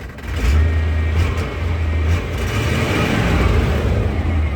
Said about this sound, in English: when you rev it, it goes clear to fucking 60